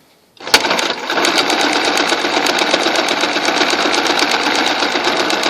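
Sewing machine basting stitches on fabric, starting abruptly and running at a steady, loud, rapid mechanical rhythm close by for about five seconds with no talk.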